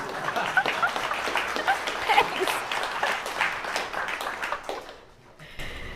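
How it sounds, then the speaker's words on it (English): An audience applauds with scattered clapping for several seconds, then it fades out as a voice speaks briefly near the end. "You can clap for that."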